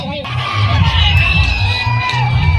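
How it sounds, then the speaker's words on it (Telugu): A loud outdoor crowd at a Sankranti bull racing competition yells, whoops and cheers continuously, with a rhythmic low thumping pulse and a voice calling out over the roar. "మీ చప్పట్లు కేకలు"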